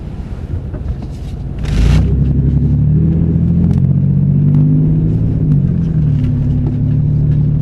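Car driving in traffic, a steady close road rumble and engine drone with wind buffeting the microphone, rising after a brief gust and then holding level, with no talk.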